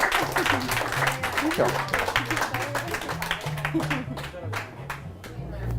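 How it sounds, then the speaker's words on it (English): Audience applauding at a live magic show, a dense, steady wash of clapping that continues throughout, with a voice briefly speaking over it. "A round of applause, please, for them."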